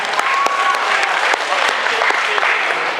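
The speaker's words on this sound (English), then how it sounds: "everybody give a round of applause." An audience at a cosplay competition claps in sustained, dense applause, loud and close, with no pauses across the whole stretch.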